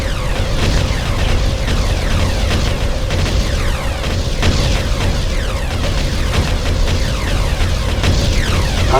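Enemy structure blowing up in the real-time strategy game Ground Control, a dense continuous rumble of booms and bursts with mechanical battle noise, loud and unbroken, no talking.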